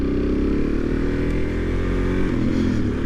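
A Suzuki DRZ400 motorcycle cruises on the highway, its engine droning steadily and loudly with rushing wind noise, no voices.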